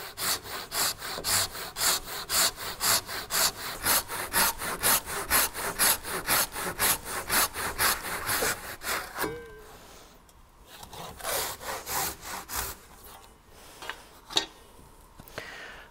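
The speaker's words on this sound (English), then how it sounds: "I'm going to use this hand saw, which is called a Ryoba, ripping tooth on one side," A Ryoba Japanese hand saw rips through a timber-frame half-lap joint in quick, even back-and-forth strokes for about nine seconds, then it slows into scattered rasping scrapes and knocks on the wood.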